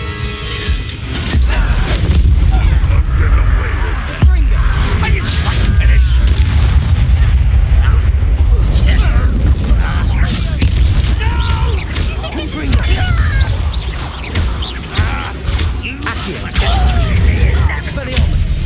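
In a Hogwarts Legacy battle, the Confringo explosion spell goes off as repeated heavy booms and blasts, dense and loud, mixed with combat effects and shouted spell voices throughout.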